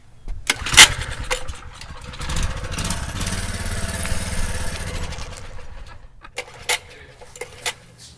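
Small mini bike engine with custom parts sputters through a start attempt, with sharp mechanical clatters and a rough, uneven running burst in the middle before dying back to quiet knocks, close and fairly loud.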